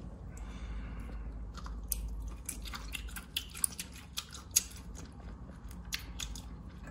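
Close-up crisp snips and wet crunchy chewing as slices are cut from a large octopus head and eaten with wasabi, a run of sharp irregular clicks and bites over a low background hum, with no talking.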